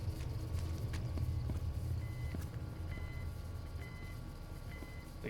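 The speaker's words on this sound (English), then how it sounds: "Thing here is beeping." Equipment in a game beeps with short electronic tones that repeat roughly once a second, thin and fairly quiet over a steady low rumble.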